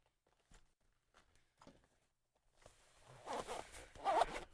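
A zipper on a crochet hook case about the size of a handheld game console case is pulled in a few short tugs, then drawn in a louder, rasping run close up.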